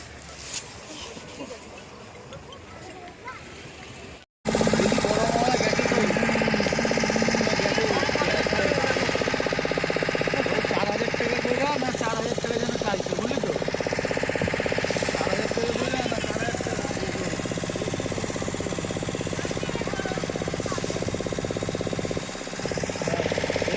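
A loud motorboat engine starts up and runs steadily with a heavy rattling drone, after a few seconds of quieter ambient noise.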